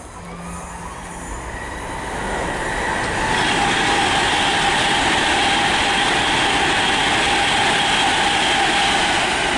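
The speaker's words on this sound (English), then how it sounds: "We've got a Pendolino passing as well." A Class 390 Pendolino electric train runs past at Nuneaton on the West Coast Main Line, heading for London Euston, a loud steady rush and rumble building over the first few seconds and then holding close.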